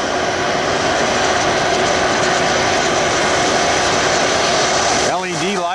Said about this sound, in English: LED lights on that beautiful Airbus NEO. Arriving, one left.